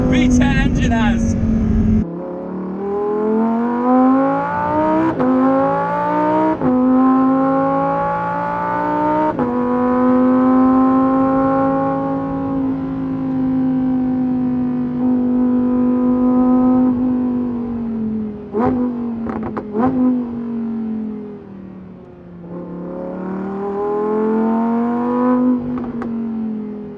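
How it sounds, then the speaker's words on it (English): Naturally aspirated V10 of a Lamborghini Huracán Performante, revving and pulling hard through rising and falling sweeps with sharp gear changes, loud and close throughout with a sustained high-pitched wail. "a naturally aspirated V10 engine has."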